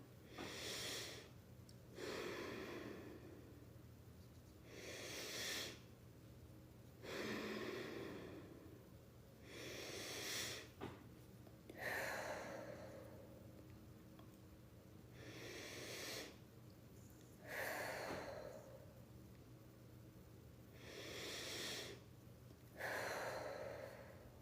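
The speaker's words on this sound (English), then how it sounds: "I want you to continue with this breathing." Rhythmic belly breathing during a meditation session, with slow, steady inhales and exhales repeating about every few seconds, close and fairly quiet over a low steady hum, and no talking.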